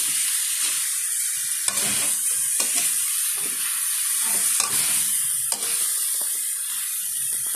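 Butter chopsuey cooks in a pan with a steady sizzle and hiss, while a utensil stirs and scrapes through it in several sharp clatters.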